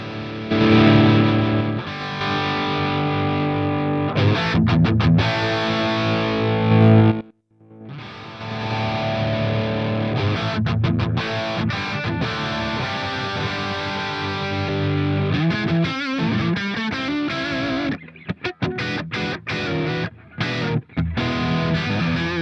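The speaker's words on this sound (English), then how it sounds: "this is the standard Plexi 50. I'm playing it again with a 2015 Les Paul" Distorted electric guitar from a 2015 Les Paul Custom Lite played through a Bias Amp Plexi 50 amp model, sustained chords and riffs running loud and continuous with one brief gap and a choppier stretch toward the end.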